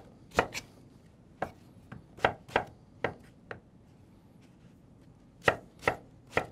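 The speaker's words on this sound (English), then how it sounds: "So you want to just cut them into big little chunks." A knife chops mango into chunks on a cutting board, about a dozen sharp, close knocks in uneven clusters with short pauses, no talking.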